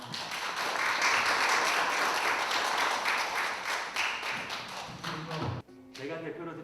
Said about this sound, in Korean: 하나님께 박수 영광 올리겠습니다.